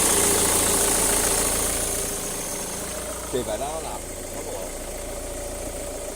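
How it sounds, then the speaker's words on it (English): A car engine keeps idling after the ignition should have shut it off, a steady low rumble with a faint knocking texture running beneath close conversation. "I can't turn my engine off."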